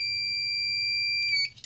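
An electrical continuity tester gives one long, steady high-pitched beep while its probes touch a good earth connection, close and loud, ending abruptly with a few small clicks.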